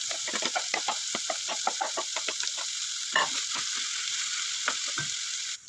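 Sinangag, Filipino fried rice made with white and brown rice, is stir-fried in a pan with a continuous hiss of sizzling oil. Frequent sharp scrapes and clacks of a spoon against the pan run throughout.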